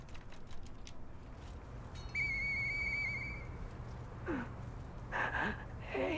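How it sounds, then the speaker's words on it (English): A whistle is blown in the video game Lies of P, a clear tone held for about a second over quiet ambience, followed by short squeaky calls and faint breathy sounds. "so now I blow the whistle"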